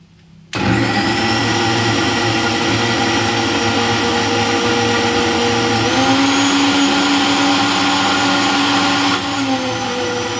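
Kitchen mixer grinder whirring as it grinds ingredients for a cattle tick remedy, starting abruptly after a brief quiet, then running as a loud, steady motor drone with a strained pitch shift partway through.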